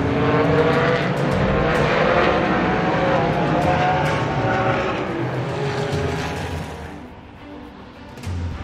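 Race cars roar around Rocky Mountain Raceway, a loud continuous engine drone from several cars that swells and slowly fades as they pass.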